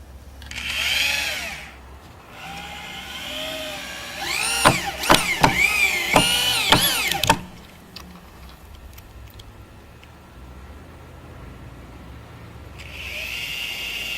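A power drill drives 3-inch screws into wooden studs while a skateboard halfpipe is built, with several rising whines in separate bursts, the loudest cluster in the middle, close and alone.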